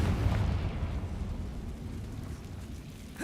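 Fiery Confringo spell explosion in Hogwarts Legacy, a loud low boom that rolls out and slowly fades over a few seconds, followed by a faint click at the end.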